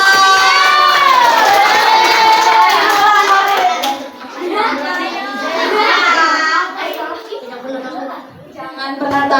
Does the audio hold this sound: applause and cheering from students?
yes